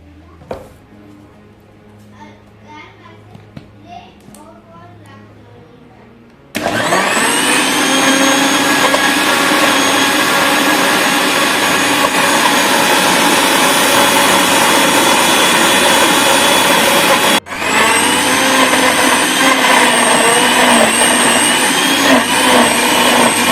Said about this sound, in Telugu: ఇవన్నీ కలిపి ఒకసారి మిక్సీ వేసుకుందాం